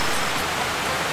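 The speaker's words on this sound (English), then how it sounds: "it's raining very heavily where I'm at in the tropical jungle of Costa Rica" Heavy tropical rain pours down steadily in a Costa Rican jungle, a loud, dense, unbroken hiss with no gaps and no voices.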